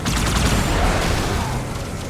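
Fuel rod gun fire in the Halo 2 video game, a dense burst of booming, crackling blasts that stays loud and sustained for about two seconds before easing slightly, with no talking.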